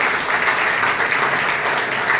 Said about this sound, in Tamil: அவங்களுக்கு ஒரு பெரிய கைத்தட்டை நீங்க கண்டிப்பா கொடுக்கணும்